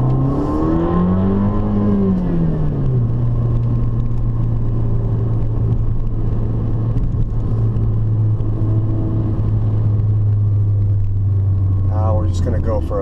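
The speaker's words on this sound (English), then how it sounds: "just to rev the engine up a little bit, give you a feeling for the power" Abarth 595 engine revving while driving through a leafy middle-class neighborhood, a steady low drone with a rising rev early on, close and continuous for the whole stretch.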